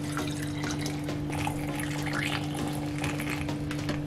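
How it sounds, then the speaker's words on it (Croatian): Water pours steadily into a spray bottle already holding salt and dish detergent, a continuous close liquid rush over a low steady hum, with no voices. "Pa ćemo sipati vode."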